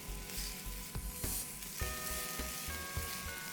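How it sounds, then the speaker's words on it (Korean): Potatoes frying in plenty of oil in a pan over medium heat, seasoned with salt, crackling in a steady close sizzle with occasional stirring knocks. "프라이팬에 이제 감자를 볶아줄 겁니다"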